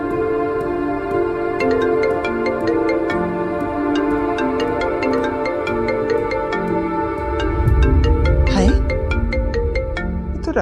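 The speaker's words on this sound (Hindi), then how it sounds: "राहील की कॉल है।" Phone ringtone playing a steady, loud, looping electronic melody with regular beeping accents, continuing throughout, with a brief low rumble and swish toward the end.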